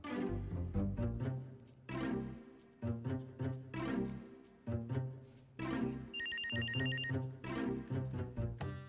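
A telephone rings repeatedly in a steady rhythm of loud, tonal bursts, filling the room with little pause between rings and no voices over it.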